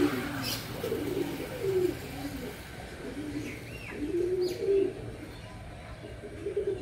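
Soft, low cooing of domestic pigeons repeats in rhythmic phrases over a steady outdoor background, with a few faint chirps higher up.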